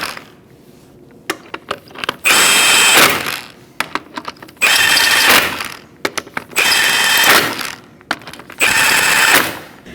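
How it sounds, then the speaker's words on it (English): An impact wrench drives car wheel lug nuts tight in a crisscross pattern on a 2004-2012 Chevrolet Colorado, giving four loud, sustained bursts of rattling hammering, each followed by clicks and clatter. "now we're going to go in a crisscross manner and tighten it up"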